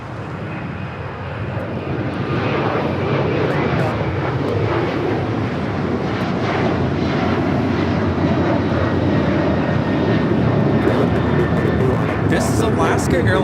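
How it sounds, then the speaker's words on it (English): An Alaska Airlines Boeing 737-800 takes off at LAX bound for Washington Reagan National, its jet engine roar building within seconds and then holding as a loud, sustained rumbling wash at an airport. "This is Alaska Airlines Flight 6 taking off to Washington Reagan National on the 737-800"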